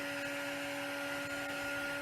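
A heat tool blows steadily on a craft project, making a constant whooshing hum with a fixed tone, close and unchanging throughout.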